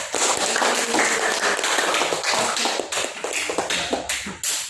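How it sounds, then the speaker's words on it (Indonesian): A classroom of students applauds a group after its presentation, a dense run of close, sharp claps that holds loud throughout and thins slightly near the end. "Beri aplaus dulu untuk kelompok 1."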